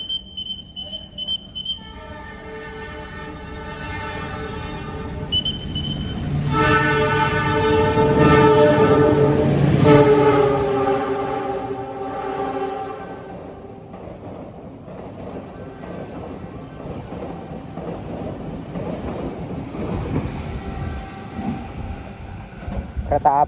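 Brawijaya passenger train passing straight through a station on the way to Malang, sounding a long, loud multi-tone horn as the rumble of its cars builds, peaks and fades.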